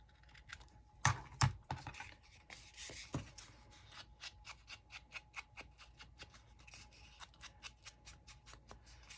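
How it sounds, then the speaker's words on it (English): Scissors snip the corners off a paper tag made from junk mail, a quick run of crisp close cuts in irregular bursts with light paper rustling in a quiet room. "I'm just gonna cut the corners like we do, just to make it look like a tag shape."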